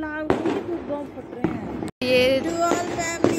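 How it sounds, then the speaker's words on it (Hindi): Firecrackers and fireworks burst at a New Year's Eve night celebration, several sharp loud bangs with crackling tails spread across a few seconds, close by, while someone talks over them. "हम यहाँ पटाख फोड़ रहे हैं और आप आवाज़ सुन सकते हो"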